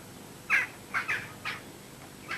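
Jackdaws and ravens caw in a rural folk-tale setting, giving five harsh, raspy calls in uneven bursts at moderate distance, with no voices over them.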